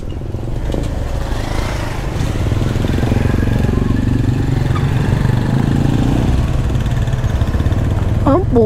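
Loud motorcycle engines drone steadily along a road close by, with a constant low rumble that rises in places as the throttle opens.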